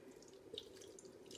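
Casserole mixture poured from close by into a crock pot over raw biscuits, a soft, faint, liquid pour lasting a moment with a slight splash, no voices.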